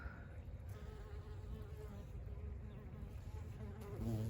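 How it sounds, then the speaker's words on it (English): Steady buzzing of bees hovering around salvia flowers nearby, a continuous insect drone with no talking. "bees and hummingbirds love salvia."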